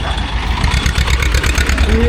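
A tractor engine rumbles nearby in a low, steady drone beside a road on a foot pilgrimage, with faint voices in the background.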